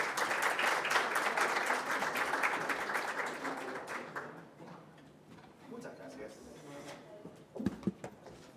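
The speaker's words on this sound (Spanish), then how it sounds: "Lo recibimos con un aplauso" Audience applause welcoming a speaker at a banking-sector talk on environmental and climate risk, dense clapping for about four seconds that dies away, followed by quiet room noise, shuffling and a few knocks.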